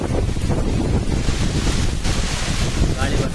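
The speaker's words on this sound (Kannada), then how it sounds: "ಜೋರುಂಟು ಬರ್ತದೆ ಗಾಳಿ" Strong wind roars and buffets the microphone in a loud, continuous rumble with gusty surges, drowning out everything else.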